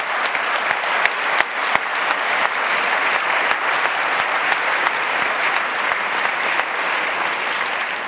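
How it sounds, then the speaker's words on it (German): Sustained applause from a crowd, dense steady clapping with a few louder individual claps standing out throughout, no speech over it. "Applaus nochmal für euch"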